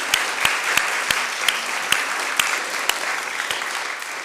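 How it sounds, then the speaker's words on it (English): Audience in Maxwelltown West Church, Dumfries, applauding the church and its reverend, a steady wash of clapping with a few distinct louder claps standing out at regular intervals. "give a round of applause to the church and Reverend Johannes for everything"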